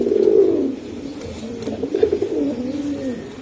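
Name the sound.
racing pigeons cooing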